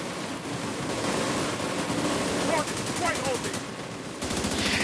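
Turret gunfire in The Division 2 rattles in rapid automatic bursts over dense game noise, loud and close. Faint voices can be heard underneath.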